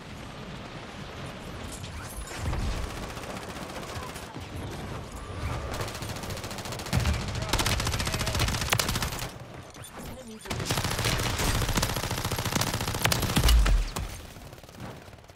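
Gunfire during target practice in a shooting video game: sustained rapid bursts of automatic fire with mechanical clatter, broken by brief pauses, loud and close throughout.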